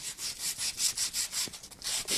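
Wood being sanded by hand with 180 grit sandpaper, a steady series of rhythmic back-and-forth rasping strokes, close and clear with no voices.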